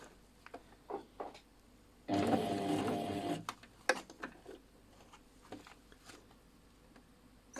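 Domestic sewing machine stitching a washbag lining through layers, a single loud burst of fast motor-driven stitching lasting about a second and a half, framed by quieter clicks and handling sounds before and after.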